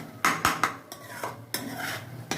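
Kochu (taro) paste frying in oil in a pan, stirred with a utensil that scrapes and knocks against the metal in irregular, close strokes over a soft sizzle.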